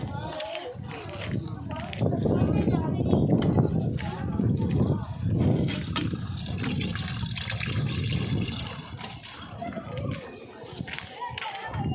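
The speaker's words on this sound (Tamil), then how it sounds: "அவ்வளோ தண்ணி விழுதுல பாத்துரும்." Water gushing from an over-pressured pipe at a village panchayat water point, a steady rushing splash with children and adults talking over it throughout.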